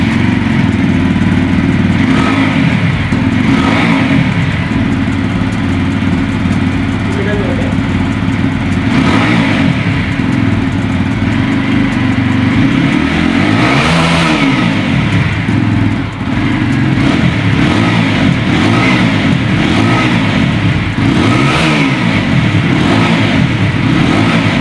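A TVS Apache RTR 160 4V motorcycle fitted with an aftermarket Bullspoke single-barrel exhaust revs repeatedly up close, its loud engine note rising and falling in throttle blips over a steady idle.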